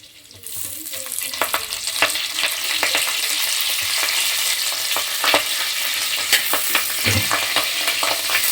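Cumin seeds and curry leaves hit hot oil and burst into a loud, crackling sizzle that starts suddenly and keeps popping steadily, with occasional stirring clinks.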